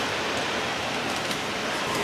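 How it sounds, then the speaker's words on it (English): Rain falling outdoors as a family hurries to load luggage for a holiday trip, a dense, steady hiss of drops that stays even and fairly loud throughout, with no one talking. "You got to be really fast because it's raining."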